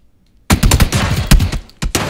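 Automatic weapon fire in the battle royale game PLAYERUNKNOWN'S BATTLEGROUNDS: loud, close bursts of rapid shots that break off briefly, then resume.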